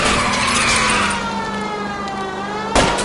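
A car being rammed and spun out during a chase in L.A. Noire: loud engine roar with a sustained tire skid squeal that slides downward, ending in a sharp impact near the end; no voices.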